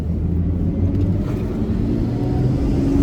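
A Toyota JZX110 sedan fitted with a Cusco front strut bar driving slowly around a residential block, heard from inside as a steady low engine and road rumble with no talk.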